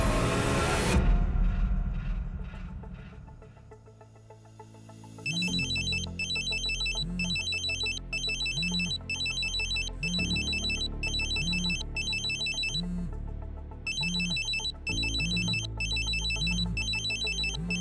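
A phone ringtone plays a repeating electronic melody in bursts, steady and fairly loud, with short gaps between rings.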